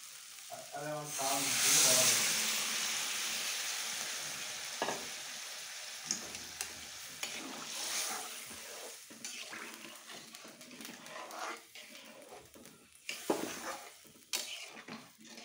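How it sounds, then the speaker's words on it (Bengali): Water added to frying chickpeas and potatoes for a dhaba-style chana aloo ghugni brings a sharp burst of sizzle that settles into steady frying, with stirring scrapes and utensil clinks following. "এখন জল দিয়ে দেবো।"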